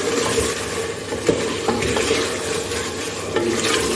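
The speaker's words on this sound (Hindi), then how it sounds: "तीन से 4 मिनट लगेंगे आलू गोश्त को भूनने में।" Aloo gosht, a potato and meat curry with crushed ginger, sizzles as it is fried and stirred in a pot, with steady close frying hiss and a few sharp spoon scrapes and knocks against the pot.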